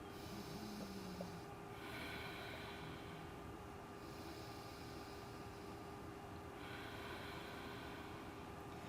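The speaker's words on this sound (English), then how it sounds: "2 rounds of breath" Two slow rounds of deep breathing during a yoga balance flow sound as faint, close inhales and exhales over a low steady hum.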